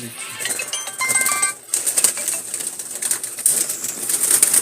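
Jalali pigeons at a pigeon sale, with soft cooing and bird calls amid busy market bustle, a brief rustle and clatter, and steady high-pitched background noise throughout.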